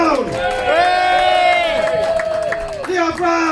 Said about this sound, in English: Give the homeless bastard a cheer!